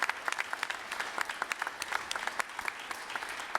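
Audience at a candidates debate claps in a steady burst of applause, crisp individual claps from a moderate-sized crowd filling the room, heard without talk.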